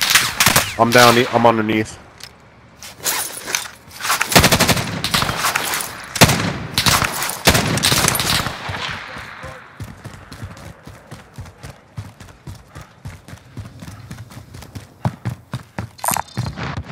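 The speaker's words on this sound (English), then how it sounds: "Watch out, cause they're shooting at us." Gunfire in a Warzone Resurgence quads match, loud bursts of automatic weapon fire in rapid clusters with a few scattered shots, intermixed with game sounds, and a player speaks briefly over it.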